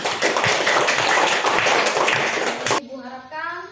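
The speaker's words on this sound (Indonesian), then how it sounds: "jadi tepuk tangan untuk Bunga." Schoolchildren in a classroom applaud their classmate Bunga with a quick, energetic round of clapping lasting under three seconds, cut off sharply as a teacher starts talking.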